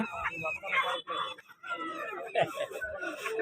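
Chickens and chicks cluck and call in short, busy bursts from nearby, the bird noise blending with a voice speaking at the same time.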